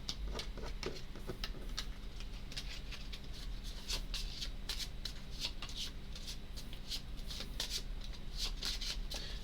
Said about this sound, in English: Okay, so I need to shuffle these into one another.